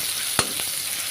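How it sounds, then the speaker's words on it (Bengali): Garlic paste fries with browned onions in a pan, a steady close sizzle broken by one sharp clack of the stirring spoon against the metal, then a softer tap. "রসুনটাকে একটু নেড়ে চেড়ে"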